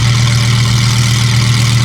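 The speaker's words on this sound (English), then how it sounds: "Josh's loud ass Lambo." A loud Lamborghini engine idling close by, a deep, steady rumble with a strong low hum and no change in pitch across the short stretch.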